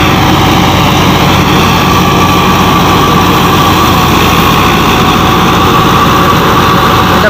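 A Belarus 515 tractor runs hard while driving a wheat thresher outdoors, giving a loud, continuous heavy engine drone with a steady mechanical roar and no pauses.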